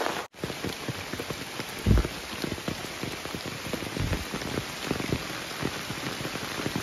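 Heavy monsoon rain pours steadily in a Konkan village, a dense close hiss of drops striking surfaces that runs without break, with a sharp knock or thud near the start.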